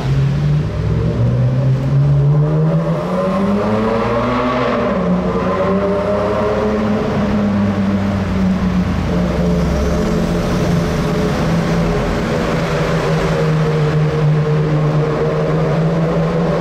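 A Bugatti supercar accelerates through a tunnel in Monaco. The loud engine note climbs in pitch and then holds a strong, booming drone that echoes off the tunnel walls.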